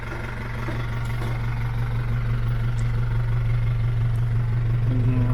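An Isuzu Elf mini dump truck with a 4BE1 diesel engine runs at a steady, loud idle nearby while its dump mechanism is worked, a constant low rumble with a faint mechanical whine toward the end.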